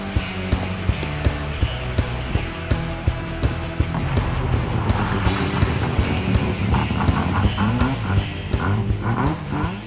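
Big rig trucks pulling hard up a hill climb grade, loud diesel engines roaring with rhythmic exhaust pulses and shifting tones as the gears change.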